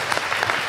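A short burst of audience clapping at a live podcast recording in Rennes, a close, dense patter of hands with no voices over it.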